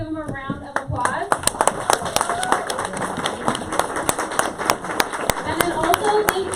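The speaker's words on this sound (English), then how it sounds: "Please give them a round of applause." Scattered hand claps from a small audience in a theater at a pitch competition, sharp separate slaps that thicken into a loose ovation, with voices talking over the start.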